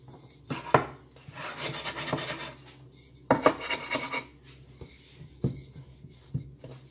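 Brioche dough rolled out lengthwise on a floured work surface, giving soft, close rubbing and scraping strokes in uneven bursts with brief quiet gaps between them.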